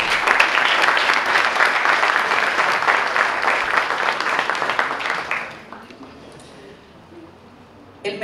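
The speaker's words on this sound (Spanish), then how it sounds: "Un aplauso para ellos." A crowd at a wine awards ceremony applauds the competition jurors, loud sustained clapping that fades out after about five seconds into a quiet room, with a brief noise at the very end.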